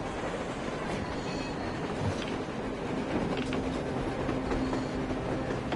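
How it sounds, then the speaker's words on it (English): A train rolls past on the surface in the Metro Exodus video game, a steady dense rumble with faint clatter lasting throughout, fairly close and with no talk over it. "A train! A damn train on the surface!"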